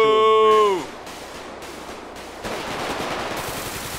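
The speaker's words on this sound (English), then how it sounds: "They're using straight-up fucking assault rifles" Assault rifle gunfire in a FiveM GTA V roleplay session: a loud tonal burst at the start cuts off, then a rapid crackle of fire rattles on steadily, with no voices over it.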